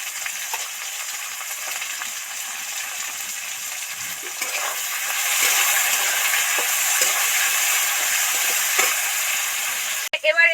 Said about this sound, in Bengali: আলুটা একটু আরো ভালো করে ভাজার জন্য সামান্য একটু নুন দিয়ে দিলাম